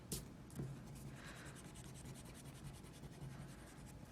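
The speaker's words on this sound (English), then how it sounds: "I'm going to go back in and darken the lines that are important to my final version." Pencil drawing on paper, going back over a two-point perspective room sketch to darken the important lines; steady close scratchy strokes run continuously with a few sharper taps, no talking.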